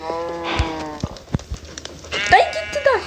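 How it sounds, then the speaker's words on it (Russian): Sheep bleat loudly nearby in the video game Minecraft, several overlapping calls with a few sharp clicks, and a voice briefly in the background. "Мне овца мешает"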